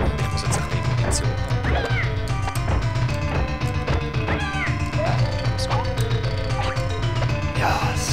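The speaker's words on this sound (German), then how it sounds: "Jedes Mal, wenn ich da drauf schlage, kommt so ein Kätzchen." Cartoon cat meows repeat throughout the Itchy and Scratchy video game, layered over busy game music and smashing hit effects, loud and frequent.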